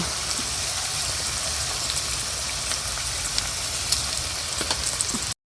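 Meat sautéing in a pan with salt, turmeric and chili powder, a dense, even crackling sizzle with scattered pops, steady and close throughout, no voices.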